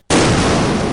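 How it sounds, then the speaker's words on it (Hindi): A cartoon firecracker bursts on a colonel's head: one sudden loud bang explodes out of silence and leaves a harsh, noisy roar that fills the rest of the moment. "और पटाखा जाकर सीधा कर्नल 303 के सर पर फटता है।"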